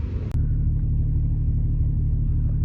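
Vehicle cruising along rural New Mexico roads: a steady low engine and road rumble holds throughout, loud and close, following a brief sharp knock at the start.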